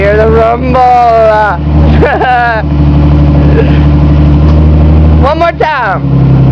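A V6 Mustang with a 2½-inch H-pipe cat-back exhaust and dual Flowmaster mufflers idles with a loud, deep, steady rumble close by, while people talk excitedly over it.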